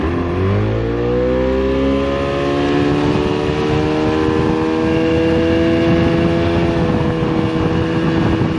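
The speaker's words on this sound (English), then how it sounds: "I'll do a takeoff full throttle, and then I'll obviously back off a bit" Restored 1959 Silverline Swift boat taking off at full throttle, its outboard engine roaring loud and close with pitch climbing and then holding a steady high whine over water noise.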